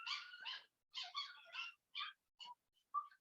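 Puppies letting out a run of high, yappy barks and yips, close and fairly clear, in short bursts with brief pauses, ending in a couple of thinner whimpering yelps.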